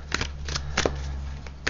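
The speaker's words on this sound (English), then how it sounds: "we've shuffled the pack." Tarot deck being shuffled by hand, several quick crisp riffles and card slaps in a short burst over a low steady background hum.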